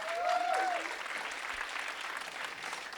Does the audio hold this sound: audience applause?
yes